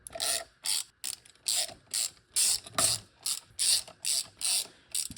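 A ratchet snugging bolts on a 1.8T rear-wheel-drive Mini engine build, about ten quick, evenly spaced clicking bursts, loud and close, with no talking.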